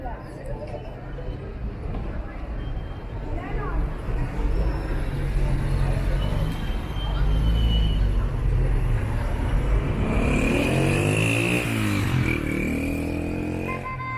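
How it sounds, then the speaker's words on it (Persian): Motorcycle engines rumble and whine through busy traffic on Afif Abad street in Shiraz, Iran, with one bike revving up and passing close near the end, while someone talks over the noise. "صدای واقعا مزخرفی داره این موتورها و خیلی رو اعصابه"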